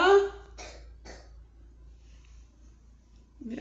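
Sick child coughing, a few short bursts close by at the start, then mostly quiet with faint background noise and a brief voice at the end.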